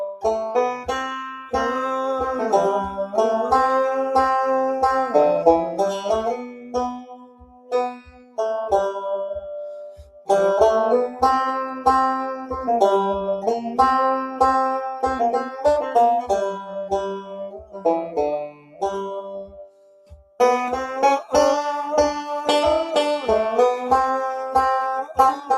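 A banjo picks a bluesy phrase, bright plucked notes with bending melodic lines over a steady, regular low pulse, played alone at close range in several sections separated by brief pauses.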